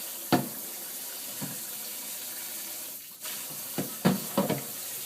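Tap water splashes from a sink onto a cat during a conditioner rinse, a steady hiss of running water broken by several sharp splashy bursts near the start and end.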